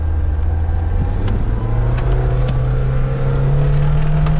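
A Lada Niva engine revs in low-range first gear, its pitch climbing steadily as it holds high rpm, droning loud and close inside the vehicle with road rumble beneath.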